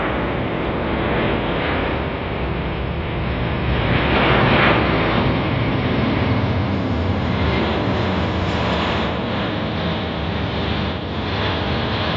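A USAF C-17 transport aircraft flies an airshow demonstration at the Australian International Airshow, its jet engines producing a loud, continuous broadband roar that swells slightly midway.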